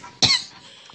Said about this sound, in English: since I'm done coughing again